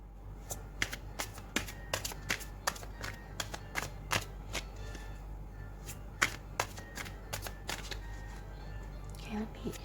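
Tarot cards being shuffled, a rapid run of crisp riffling snaps and slaps close by over a quiet low hum.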